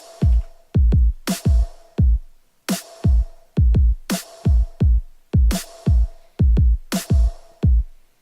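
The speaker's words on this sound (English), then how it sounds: "Alright, so that's for the kicks and snares." A punchy electronic kick and snare drum pattern for a pop track plays loud and alone, with booming kicks in quick syncopated pairs and bright sharp snare hits landing on the backbeat.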